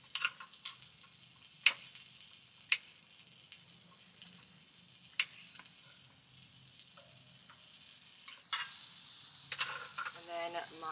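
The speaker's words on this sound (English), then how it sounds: "So I just brought a steamed broccoli and I'm gonna cook it one more time." Steamed broccoli and sliced mushrooms frying in a pan at a lakeside campsite, with a soft steady sizzle, occasional sharp clicks and taps of a utensil stirring, and louder scraping near the end.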